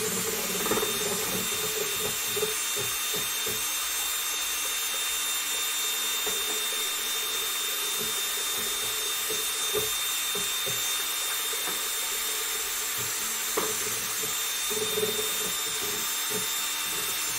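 Epoxy resin for a river serving board is mixed in a woodworking workshop, giving a steady, continuous whirring noise with scattered scraping taps and no talking.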